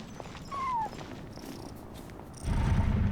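A cat cries with a short rising meow, then purrs in a low rumble in the video game Genshin Impact, set in ruins. The cat is near and fairly clear, with steady ambient game noise beneath it.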